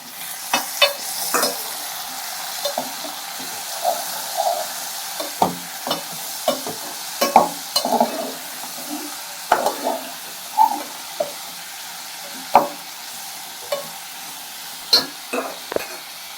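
Tomatoes drop into hot oil in a pan and fry with a soft sizzle, while a spoon stirs in scattered scraping clinks and knocks; close and moderate, no talking.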